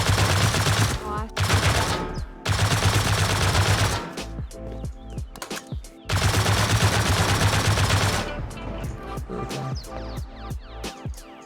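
Gunfire in the survival video game Rust, with long dense bursts of rapid loud shots broken by short gaps and then scattered single shots and echoing clatter near the end.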